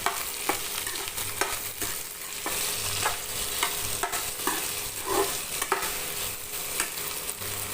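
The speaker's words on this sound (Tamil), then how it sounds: "இதில் வந்து எண்ணெய் ஊற்றி நல்லா வதக்கிக்கலாம்" Chopped okra sautéing in oil, a constant close sizzle with repeated scraping stirs of a spatula against the pan.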